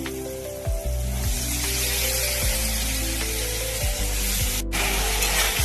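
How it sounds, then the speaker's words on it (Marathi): Washed cluster beans (guar) drop into a hot pan of cooked tomato and onion, setting off a steady, close sizzle and hiss, with a few scraping and stirring knocks along the way. "त्याच्यामध्ये आपण धुवून घेतलेली गवारी टाकूया"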